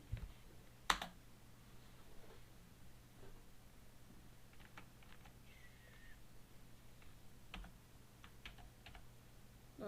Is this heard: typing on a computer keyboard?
yes